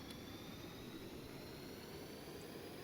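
A Harrier jet engine in Stormworks roars in a steady, even whine and rumble, continuous and moderately quiet throughout.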